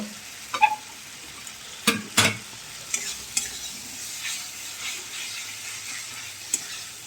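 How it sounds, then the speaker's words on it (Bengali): Spice paste being stir-fried in a pan for an egg curry, with soft continuous sizzling and a few sharp scraping stirs of a spoon against the pan, no talking. "দেখো মশলা কষানো হয়ে গেছে প্রায় আর একটু কষিয়ে নিয়ে তারপরে ডিমটা দেব"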